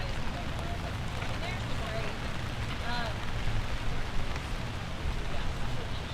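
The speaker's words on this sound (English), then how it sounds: "there's kind of a downpour now" Heavy rain pouring down outdoors at a campus rally, a dense steady hiss filling the scene throughout, with voices talking faintly through it.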